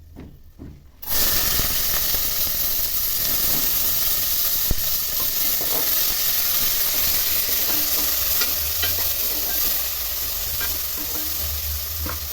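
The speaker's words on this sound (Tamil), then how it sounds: "வெங்காயம் கொஞ்சம் நேரம் வதங்கட்டும்." Sliced onions sizzle steadily in hot oil with cinnamon, cloves and cardamom in a pressure cooker, a loud continuous frying hiss with faint stirring scrapes, no voices.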